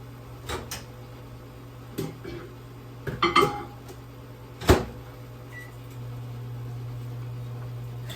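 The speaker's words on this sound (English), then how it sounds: "I'm going to put it in the microwave" A steady low microwave hum starts partway through, following a few clicks and clunks of a door and handling nearby.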